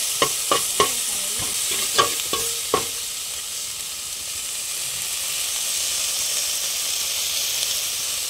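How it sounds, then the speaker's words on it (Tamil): Mutton paya with ginger-garlic paste is stirred in a frying pan: a run of sharp spoon knocks against the pan over the first three seconds, then a steady close sizzle alone; no voices. "நல்லா கிண்டி விட்டுக்கலாம் போல."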